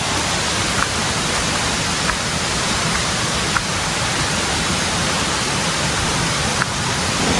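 Water rushes steadily from the Mae Kampong waterfall beside a walking path in Chiang Mai on a drizzly day, a loud, constant broadband roar with a few faint clicks.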